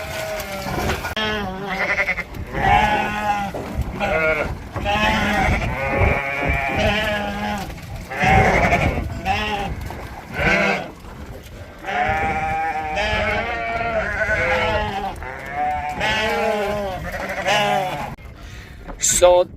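Sheep ewes bleating on a farm during a large shearing day, repeated calls from several animals overlapping close by, with people talking throughout.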